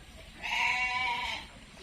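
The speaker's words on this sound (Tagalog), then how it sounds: "Mga tupa." A single drawn-out sheep bleat on a farm, fairly close and clear, rising out of quiet background and lasting about a second, with no talking.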